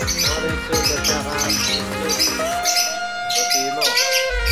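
Several pet birds, orange- and blue-feathered, squawk and chirp loudly and continuously at close range. A person speaks briefly among them.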